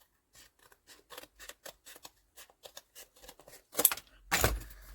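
Scissors snip paper in a quick run of short cuts, working around a piece for a vintage journal. A louder rustle and cut come near the end, close up with no talk.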